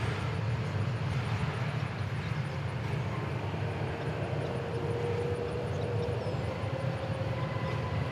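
A jet airliner passing at DFW Airport, a steady broadband engine roar holding at moderate distance throughout with no voices over it.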